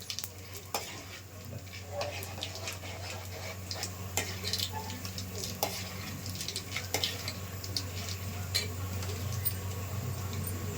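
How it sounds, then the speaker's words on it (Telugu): Mustard seeds and cumin hit hot oil in a pan and sizzle steadily, with scattered sharp pops and crackles throughout alongside a low constant hum nearby. "ఆవాలు జీలకర్ర వేసేస్తున్నానండి. నూనె వేసుకున్నామండి."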